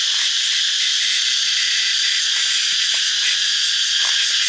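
Cicadas calling loudly from a tree, a dense, unbroken high-pitched buzzing drone that fills the air at close range, with no talking.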